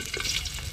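Garlic frying in hot oil in a pan at a campsite catch-and-cook meal, a soft brief crackling sizzle close by with no talk.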